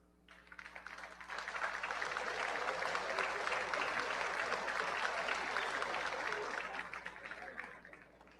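Deputies applauding in a session of the National Assembly: sustained broad applause swells within a second or two, holds steady for several seconds, then tapers off.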